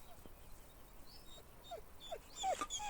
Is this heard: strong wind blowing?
no